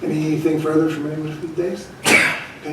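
A single sharp sneeze bursts out near the end, during a public meeting at a council dais in a meeting room, following a voice speaking briefly over the room.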